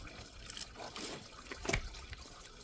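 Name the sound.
coolant draining from Hummer H3 engine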